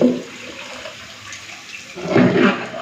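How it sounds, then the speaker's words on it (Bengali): Hot water is poured into a pot of mutton and potato curry, a close, steady gushing splash that swells louder near the end. "তো জলটা গরম করে নিয়েছি দিয়ে দিচ্ছি"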